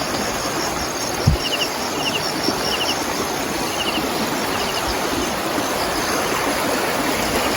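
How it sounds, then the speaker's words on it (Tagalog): A creek linked to San Miguel flows with a steady, broad rushing wash near a spillway, joined by a faint repeating chirp of insects and an occasional low knock, with no voices. "Ito yung sapa na konektado sa San Miguel"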